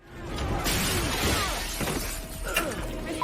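Pressurized stunt breakaway glass bursting apart in a loud, sustained shatter with scattered crackling and tinkling shards over about three seconds, close and alone.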